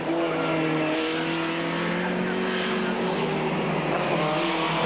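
Vauxhall Lotus race cars thunder out of Becketts and down the Club Straight at Silverstone in 1990, a loud, continuous engine drone with steady high-revving tones overlapping throughout.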